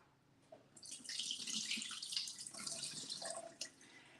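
Tap water runs steadily into a sink as soaked cashews are drained and rinsed, a continuous close splashing hiss that swells after the first second and holds to the end, with no talking.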